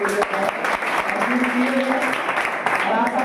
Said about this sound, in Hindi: इसके लिए हमारे गुरुदेव से ताली से स्वागत करें।